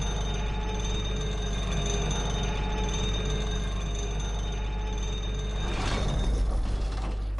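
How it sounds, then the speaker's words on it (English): Elevator mechanism in the video game Bloodborne, a steady mechanical rumble with ratcheting, creaking gear noise running throughout, swelling slightly near the end. "A big old elevator ride,"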